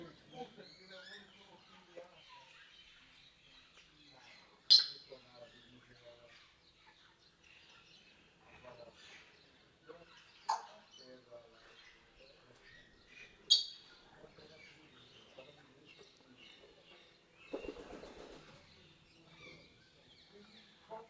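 African grey parrots, breeding pairs housed in an exotic-bird aviary, give a few sharp, scattered squawks and calls over a faint background of softer chirps, each outburst brief and moderately distant.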